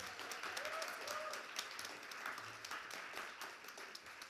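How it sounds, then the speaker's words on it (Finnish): An audience at a church tour event in Kokkola, Finland gives steady, moderately faint applause, with scattered claps blending into a continuous patter for several seconds. "niin annetaan heille vielä aplodit"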